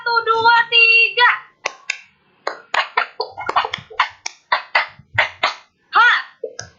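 A primary school class claps a group rhythm on cue, with bursts of sharp, loud, unison claps in short patterned sets, each separated by brief pauses, after a teacher's opening voice.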